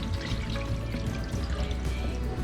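Starchy rinse water pours and drains steadily from washed rice in a pot, a continuous close splashing trickle with no pauses.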